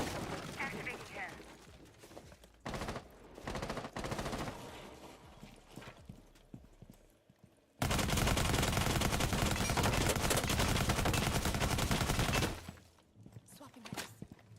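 Shotgun blasts in Rainbow Six Siege, a loud dense burst of gunfire sustained for several seconds mid-clip, preceded by scattered sharp shots and in-game noise.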